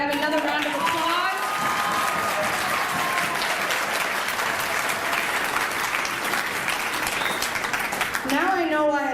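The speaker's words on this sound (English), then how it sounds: "Can I have another round of applause?" A crowd at a fundraising dinner for a youth charity gives sustained, loud applause throughout, with a voice speaking over the clapping at the start and again at the end.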